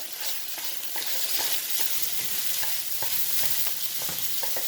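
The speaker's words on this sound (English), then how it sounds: "You see that? The stir fry 101." Chicken and mixed vegetables are stir-fried with two spatulas on a home stove: a loud, constant sizzle overlaid with quick, rhythmic scraping strokes against the pan.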